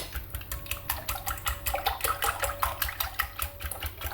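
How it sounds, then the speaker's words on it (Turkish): Cold milk poured into a whisked egg batter for a pan-made su böreği style dish, a close liquid splashing with rapid pulsing gurgles and a few light clinks, no speech. "Üzerine de bir su bardağı kadar soğuk sütümüzü koyuyoruz."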